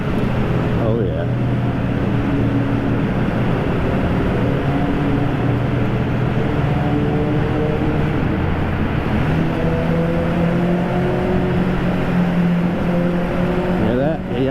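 A car engine drones and revs in a downtown Minneapolis tunnel, with steady loud rumble and rising and falling engine tones echoing throughout, along with the hiss of surrounding traffic.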